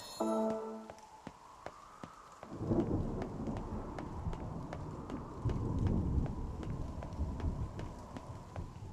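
Thunderstorm in Nier Reincarnation: rolling thunder and steady rain build after a brief chime, with loud rumbling swells recurring over a faint regular ticking and no talk.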